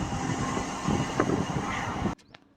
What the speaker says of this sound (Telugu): బీబీనగర్ స్టేషన్కి మన ట్రైన్ చేరుకుంది